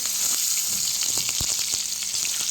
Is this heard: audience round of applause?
no